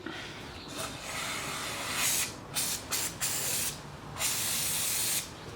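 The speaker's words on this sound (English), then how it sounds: "spray down one area, being sure to kind of get in between the chain links with this lubricant" Aerosol lubricant sprayed onto a motorcycle chain in several close hissing bursts, a long spray followed by short puffs and another long blast, with brief pauses between.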